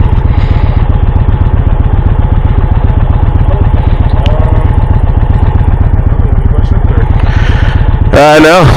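A 2023 Indian Dark Horse Pursuit motorcycle engine runs loud and close with a steady, throbbing low rumble throughout. A short louder burst comes right at the end, and faint talk sits under the engine.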